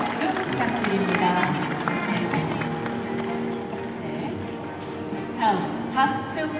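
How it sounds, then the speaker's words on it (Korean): An audience at an opening ceremony with a ribbon-cutting ritual applauds with steady, dense clapping that runs throughout, with a murmur of voices mixed in. "큰 박수 부탁드립니다."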